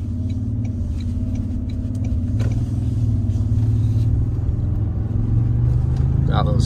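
A 2023 Toyota Tundra Capstone's twin-turbo engine hums as a low, steady rumble from inside the cab, building gradually as the truck accelerates.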